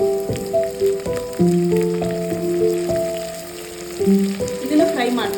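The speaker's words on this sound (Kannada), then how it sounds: "ಇದನ್ನ ಒಂದು 5 ಮಿನಿಟ್ಸ್ ನೀಟಾಗಿ ಫ್ರೈ ಮಾಡ್ಕೊಳ್ಳಿ." Soya and capsicum rice mixture frying in a pan: a soft, steady sizzle beneath a series of clear, sustained melodic tones that step up and down throughout.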